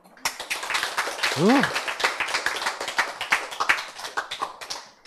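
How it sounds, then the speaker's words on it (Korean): A lecture audience claps together, a dense burst of many hands that swells and fades over several seconds, with a voice briefly heard over it. "박수"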